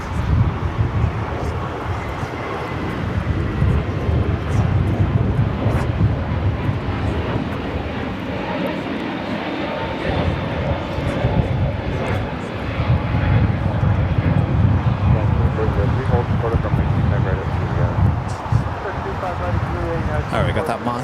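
An airliner on flight 688 to Boston takes off at Los Angeles LAX, a loud, steady jet roar with deep rumble that holds for the whole stretch, with voices talking over it.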